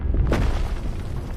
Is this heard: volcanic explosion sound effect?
yes